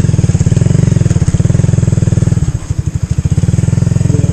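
A motorcycle engine idles up close during a motocamping trip in Quirino Province, a loud, steady, throbbing putter with a brief dip and wobble in rhythm midway before settling back into its even beat.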